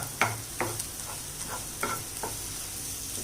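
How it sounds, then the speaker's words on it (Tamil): Four beaten eggs fry softly in a pan while a spatula scrapes and stirs them in a handful of distinct strokes over a low, steady sizzle; close and fairly quiet, no voices. "இந்த மாதிரி 4 முட்டையை அடித்து ஊற்றி இந்த மாதிரி பண்ணி எடுத்துக்கோங்க"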